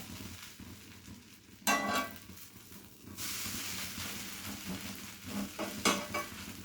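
Dosa batter sizzles on a hot dosa griddle in a steady broadband hiss, with louder bursts of frying and scraping rising and falling close by, no talk.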